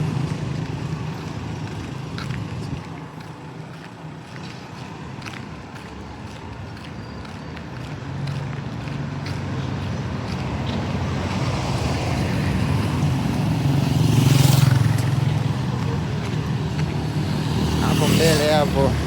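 Traffic passes along Jomo Kenyatta Road in Mwanza, Tanzania, a continuous low road rumble with vehicles swelling by, including a louder pass near the end, while someone talks throughout.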